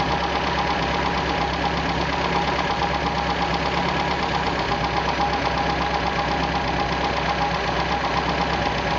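An MG engine runs with HIF carburetors under adjustment, set fully rich yet running a little lean, holding a steady, close idle with a rhythmic, slightly uneven mechanical knock and continuous vibration throughout.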